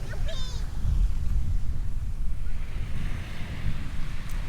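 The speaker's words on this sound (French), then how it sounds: "Il y a des belles vagues, hein?" Ocean waves roll in on a beach while wind buffets the microphone, a continuous low rumble with faint children's voices at the start.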